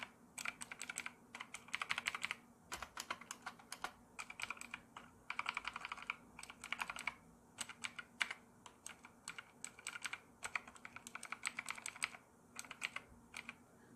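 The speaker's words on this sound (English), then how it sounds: "mechanical blue switches, which kind of sound like this" Rapid clicky keystrokes from a mechanical keyboard with blue switches, typed in steady bursts with short pauses, sharp and close, with no voices.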